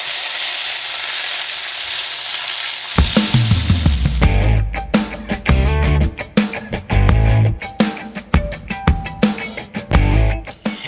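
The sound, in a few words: gnocchi frying in butter with sage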